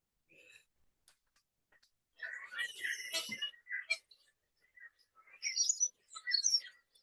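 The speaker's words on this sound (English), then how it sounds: "half an hour after this bird starts singing on its own, this is what I hear in my backyard." Small bird singing in a backyard, bright chirps and twittering phrases in scattered bursts with quiet gaps, fairly faint and alone.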